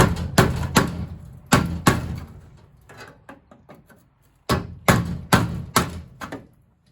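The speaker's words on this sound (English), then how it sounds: "Use this to chisel out that last spot weld." Sharp metallic hammer-on-chisel strikes cut out a spot weld on a 1955 Buick Special body, coming in quick clusters of three or four blows with short gaps between, loud and close, no talk.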